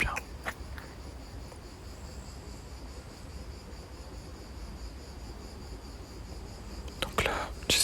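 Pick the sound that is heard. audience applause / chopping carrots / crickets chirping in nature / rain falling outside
crickets chirping in nature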